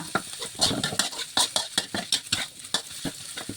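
A spatula scrapes and clatters rhythmically in a hot pan, quick repeated stirring strokes over a soft sizzle of garlic, pepper, coriander root and sliced ginger frying.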